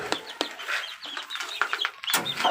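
A young gamefowl chick (baby stag) gives a string of soft clucks and chirps close by, irregular and overlapping, with no talk.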